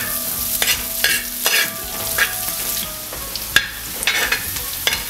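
Chopped garlic sautés in a pan for a Kerala varutharacha chicken curry, a steady close sizzle broken by repeated scraping stirs with a spoon, no talk.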